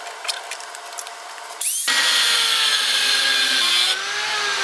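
Power tools at work on motorcycle fender mount brackets for a wrecked CB500F rebuild: a brief drill-like rattle, then a loud, steady whine of a cutter biting into metal that runs several seconds and drops slightly in pitch near the end.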